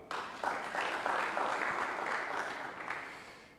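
Audience clapping at a counseling institute gathering, steady broadband applause from many hands that starts abruptly and holds for several seconds before slowly thinning out.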